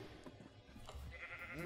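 Sheep bleating on a Minecraft farm, a short game-sound cry rising near the end over a busy, noisy background.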